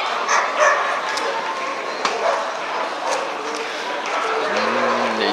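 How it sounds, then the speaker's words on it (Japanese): Barking dogs echo through a crowded indoor hall at the European dog show in Paris 2022, a few distant yips mixed into steady chatter from the crowd. "なんとかうるさい犬がいますね。"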